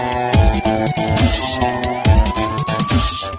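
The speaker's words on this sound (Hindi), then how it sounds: "सुना सायरन की आवाज, पुलिस भी आ गई।" A loud police siren wails with a rising and falling tone, close by, while heavy thumping beats and other noise pound underneath it.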